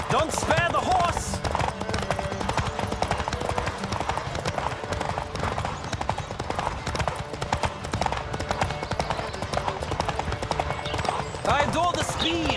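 Horse hooves clip-clop at a steady galloping rhythm during a race in the video game Witcher 3, close and continuous, with game voices and music layered over the hoofbeats.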